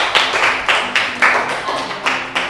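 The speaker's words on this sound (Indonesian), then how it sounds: "Kasih tepuk tangan." A classroom group claps hands in a loose rhythm of about nine sharp claps, close and bright, each with a short ring, and no talk.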